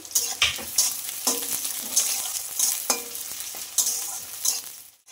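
Onions stirred and frying in a pan, a steady sizzle broken by several scraping strokes of the spatula at irregular intervals, close and fairly loud with no talking.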